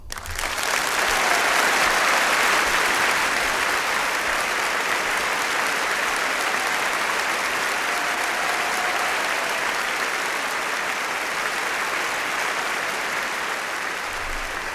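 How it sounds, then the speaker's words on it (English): A loud, sustained round of applause from a studio or live audience, dense steady clapping that holds for the whole stretch without fading, with no talking over it. "So everyone, give Trump Vader a round of applause"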